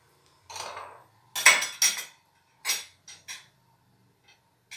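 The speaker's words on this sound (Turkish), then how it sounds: "Şöyle demir kepçemiz olsun bakalım" An iron ladle clinks and scrapes against a pot of rice pudding (sütlaç) in a series of close, distinct metallic taps and strokes separated by short pauses, with no voices.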